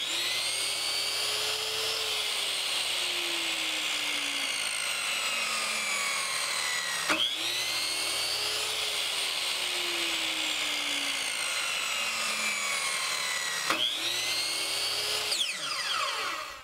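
A power saw cuts small wooden blocks of picture frame molding in three long, steady passes, each one a loud high whine with a sharp burst where the blade bites into the wood, and the motor winds down at the end.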